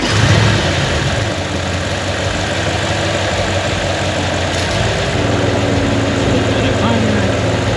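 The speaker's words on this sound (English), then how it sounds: "we're gonna go ahead and start the car" Audi C7 S6/S7 4.0T engine running at idle after an oil change, a steady close engine hum with a brief rise near the start, with speech heard over it.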